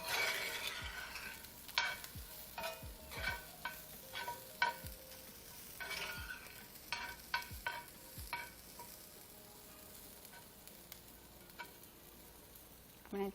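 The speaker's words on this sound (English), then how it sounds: "Let me stir my filling around" A spoon scrapes and stirs tortilla filling with potatoes in a pan, giving repeated close clinks and scrapes in an irregular rhythm over a faint, steady sizzle, with no voices.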